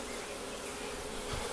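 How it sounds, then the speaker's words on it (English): Honeybees swarm-buzz inside a newly kept beehive right after being smoked, a steady dense drone that fills the whole stretch evenly and loudly, close by, with no talking. "They sure buzz when you hit them with that smoke"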